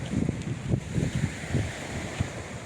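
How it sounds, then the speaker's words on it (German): Wind gusts across the Peloponnese coast in Greece, buffeting the microphone with low, uneven rumbling thumps and a constant breathy rush close up, with no talking. "Heute ist es ein bisschen windig, aber das macht uns ja nichts aus."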